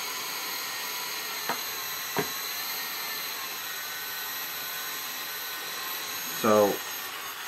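Hubsan X4 H502e quadcopter with motors at idle throttle, a steady faint high-pitched whine held evenly throughout, with a couple of small clicks and a short rising whir near the end as a voice speaks briefly.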